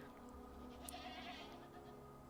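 Goats bleat in the video game Apothecaria, a short cluster of calls rising over a steady, continuous background drone.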